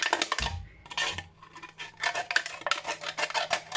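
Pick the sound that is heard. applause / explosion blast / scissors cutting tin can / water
scissors cutting tin can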